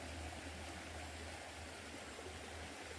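Water runs in a steady, even rush while freshly planted vegetable seeds on a farm are watered. The hiss stays constant and close throughout, with no voices.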